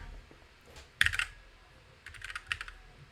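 Computer keyboard clattering in two short bursts of close, crisp key presses and clicks against a quiet room.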